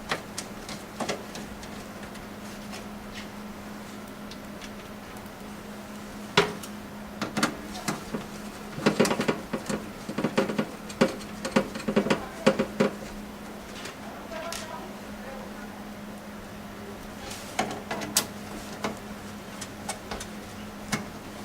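Small dry clicks and ticks of screws being tightened while assembling a PC, scattered in short bursts with quiet gaps between them, close by and fairly faint.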